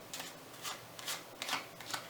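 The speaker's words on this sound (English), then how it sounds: "you want to shuffle the 8 of hearts to the top" Playing cards being shuffled by hand during a close-up card trick, a few soft riffling bursts with short pauses between them, quiet and near, no voices.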